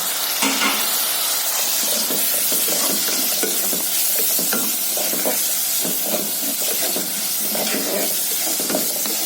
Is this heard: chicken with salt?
yes